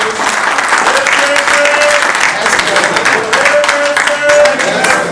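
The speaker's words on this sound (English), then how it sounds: "The way you are clapping" Sustained applause from a gala dinner audience celebrating an election victory, dense steady clapping filling the room throughout, with faint voices and a sustained tone mixed underneath.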